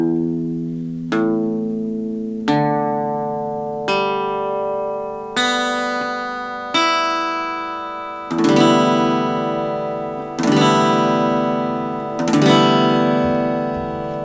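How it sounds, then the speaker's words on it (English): Guitar strings plucked one at a time for a tuning check, each note ringing out and decaying before the next, a steady sequence of clear tones ending in a few strummed chords, with no talking. "As always, make sure your guitar is in tune."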